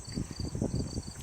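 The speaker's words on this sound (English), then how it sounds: "You can hear all the crickets." Crickets chirp in a backyard vegetable garden, a rapid pulsing trill with a faint steady high insect tone behind it, close and continuous with no talk.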